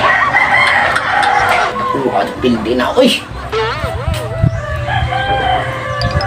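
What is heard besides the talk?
rooster crowing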